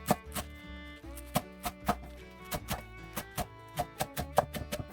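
A knife taps quickly and unevenly against a cutting board, slicing garlic chives into short pieces for cucumber kimchi, with sharp, close chops in irregular clusters over a quiet background.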